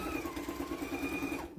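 A sewing machine with a walking foot and a 90/14 needle stitches steadily through thick quilt-as-you-go layers, a fast even whirring hum, close and moderately quiet, with no talk.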